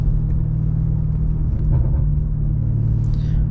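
An 800 hp BMW M5 Competition on a late rainy night drive, its engine a steady low rumble heard from inside the cabin, loud and constant with a slight swell partway through and no talking.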